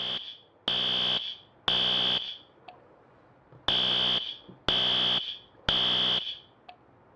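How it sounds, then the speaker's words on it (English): Fire alarm sounding during a drill in a restroom building, a loud piercing electronic tone in repeated bursts of about a second each, two pulses then a short gap, over and over with no other sound. "The fire alarm started going off."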